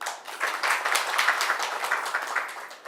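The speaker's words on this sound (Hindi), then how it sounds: "सब लोग ताली बजाओ।" An audience at a Mangal Aarti lecture in Vrindavan breaks into a brief, dense burst of hand clapping that holds steady for a few seconds.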